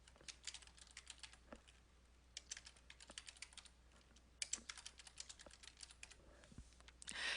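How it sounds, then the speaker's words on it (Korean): Fingers tap steadily on a computer keyboard while entering a title in a Korean word processor, soft irregular clicks close by in a quiet room with a faint hum. "여기에 들어와서 제목의 내용부터 타자를 치겠습니다."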